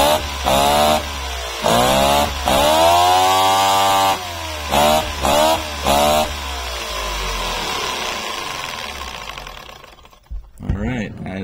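A small variable-valve engine with a flywheel revs sharply from idle several times in quick bursts. It then settles into a steady idle before cutting off, loud and close throughout.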